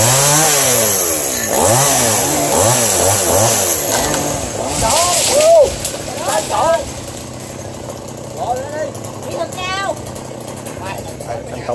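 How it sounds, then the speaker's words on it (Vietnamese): A chainsaw cuts a tree outdoors, its engine revving and dropping in repeated surges, loud and close, then idling unevenly with occasional bursts while people talk over it. "chỉ đạo cho đồng nghiệp của anh cưa cây nhau vậy"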